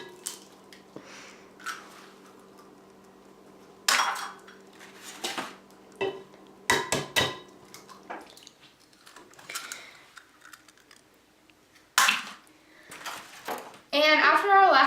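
Eggs are cracked one after another against a bowl for banana bread, sharp taps and small wet clicks spaced apart with quiet gaps between, amid light kitchen clatter.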